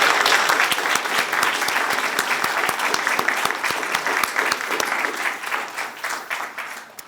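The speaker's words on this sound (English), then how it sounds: "You've held your applause, so let's clap them now." An audience at a League of Women Voters candidate forum claps for the candidates, sustained applause with crisp individual claps, loud at first and gradually thinning toward the end.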